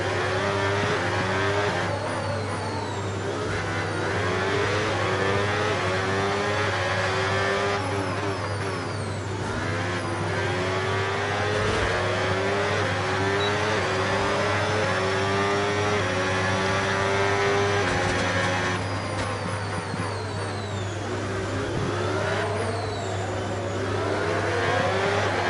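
An F1 race car engine in the F1 26 game screams through repeated revving and gear changes, a loud, steady high-pitched whine rising and falling in long sweeps with no talk over it.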